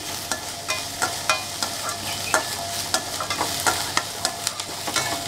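Finely chopped onions sautéing in a pan, a soft continuous sizzle punctuated by regular scraping clacks of a spatula stirring, roughly two strokes per second.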